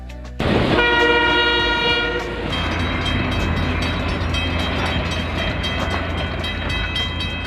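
The Skunk Train departs Fort Bragg with a loud, rich multi-tone horn blast that sounds for about two seconds, then continues over rumbling, clattering train noise as it rolls away.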